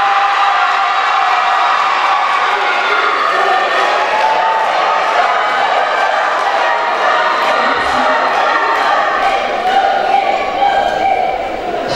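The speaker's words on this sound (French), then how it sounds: "applaudissements pour Soukaina" Audience applauding and cheering for a contestant at a pageant-style event, a loud continuous wash of clapping and crowd noise from a full room lasting throughout, with occasional whoops.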